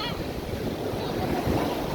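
Waves wash steadily onto the beach at Singkawang in a continuous, fairly loud surf roar, with no voices over it.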